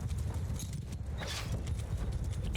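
Many horses galloping in a Mount & Blade II: Bannerlord battle, a dense rumbling stream of hoofbeats close and loud, with battle noise layered over it and no talking.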